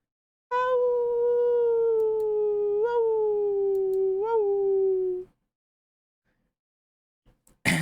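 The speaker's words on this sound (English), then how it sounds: "The beastly howling is beginning to give me a headache." Beastly dog howling in the Tsukihime visual novel, one long loud wavering howl lasting about five seconds, followed by silence.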